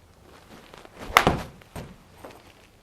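A golf ball struck with a pitching wedge, a single sharp, close thump followed by a brief softer tap, then quiet.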